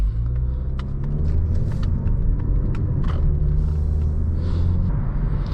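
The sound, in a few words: road noise inside 2020 Mazda 3 cabin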